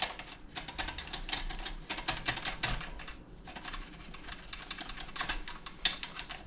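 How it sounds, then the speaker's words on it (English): Steady, fast typing on a 1925 Royal full-size manual typewriter, dense clattering keystrokes with brief pauses and an occasional sharper carriage or bell strike near the end, close and alone. "This is the first full-size typewriter I've had."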